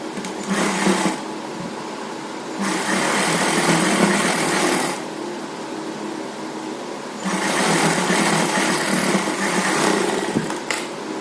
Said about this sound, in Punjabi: ਹੁਣ ਆਪਾਂ ਇੱਥੇ ਸਲਾਈ ਲਗਾ ਦਾਂਗੇ